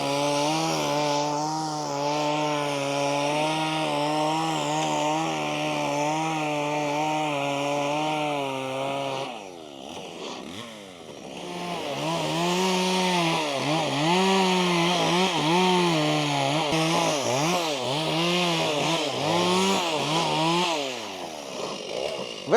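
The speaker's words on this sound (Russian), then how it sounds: "бензопилой с длинной шиной, пройдется" A chainsaw with a long bar cuts through clean river ice, its engine whining steadily close by, then bogging and surging in wavering pitch as the blade bites in after a short dip.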